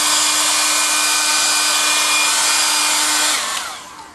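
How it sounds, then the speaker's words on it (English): A hair dryer drying the air around a Van de Graaff generator's ball blows with a loud, steady whirring roar and a constant motor hum, then winds down and fades near the end. "with the hairdryer keep drying the air around the ball"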